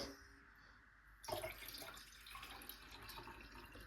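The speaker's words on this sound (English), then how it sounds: "So it's time to do the pouring." Homemade pomegranate juice is poured into a glass. After a quiet start, a steady, hissing liquid stream begins abruptly and runs on at moderate loudness until the end.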